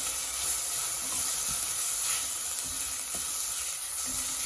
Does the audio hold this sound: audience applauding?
no